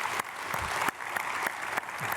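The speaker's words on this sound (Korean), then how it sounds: "박수로 축복하겠습니다" Church congregation applauding during a Sunday worship service at a Korean church after a flutist is introduced, a steady wash of many hands clapping with a few sharper swells, fairly close and without talk.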